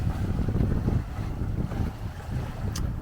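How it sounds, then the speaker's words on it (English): Wind rushes steadily across a heavily reefed sailboat moving through choppy water, gusting and buffeting the microphone over a low wash of water along the hull, with no voices. "So there's definitely quite a bit of wind out here."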